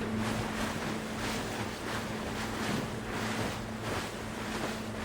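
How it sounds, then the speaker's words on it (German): High waves on the open sea off Sørøya, Norway, rolling and surging in a steady broad wash with wind noise and a low engine hum from a boat, loud and continuous throughout. "waren die Wellen am offenen Meer immer noch sehr hoch"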